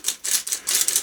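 A pepper grinder cranks black pepper over baked beans in a pot, giving rapid, close, gritty bursts of crunching in quick successive twists.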